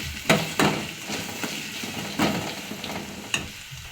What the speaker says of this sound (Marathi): छान परतून घ्यायचं, कांदा लाल होईपर्यंत